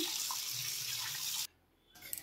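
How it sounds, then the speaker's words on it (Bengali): Tap water runs steadily into a sink while 600 grams of rohu fish are rinsed clean, then cuts off abruptly, leaving near-silence before a faint splash. "প্রথমে ভালো করে পরিষ্কার করে ধুয়ে নিচ্ছি।"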